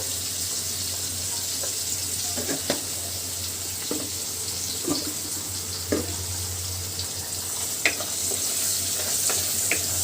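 Salted hilsa fish with turmeric powder fries in oil with a continuous, even hiss, broken by occasional soft clicks and stirring taps close by.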